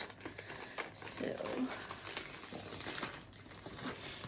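Plastic packaging from a Hobby Jobby yarn order crinkles and rustles as it is handled and opened, close up, in irregular bursts with brief sharper crackles.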